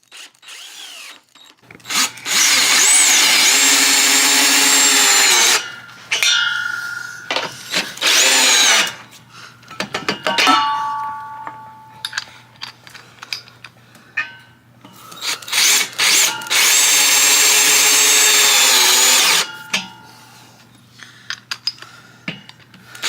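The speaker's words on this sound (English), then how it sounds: "so now I'm going to go ahead and start screwing each one of them in" A power drill drives screws into a cable railing post in loud whirring bursts of several seconds each, separated by pauses with small clicks and handling noises, close by.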